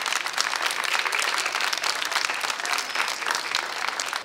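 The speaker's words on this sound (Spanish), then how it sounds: "les pido un gran aplauso para el municipio de Miraflores" Applause for the municipality of Miraflores at the inauguration of a school library: a sustained, even wash of clapping from a moderately distant audience, lasting the full four seconds with no voices over it.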